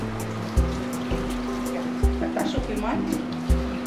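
Cups of water are poured into a pot of rice fried in oil with turmeric for mansaf, about twelve to thirteen cups in all, giving a steady trickling splash with recurring soft thumps while people talk over it.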